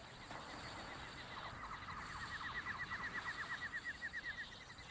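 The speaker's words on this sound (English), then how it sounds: "here on the island, the man can hear the sounds of tropical birds" Tropical birds call on an island, a run of bright, rapid chirping trills in a regular rhythm over a steady ambient hiss, growing more prominent toward the end.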